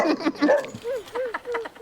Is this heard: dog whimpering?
yes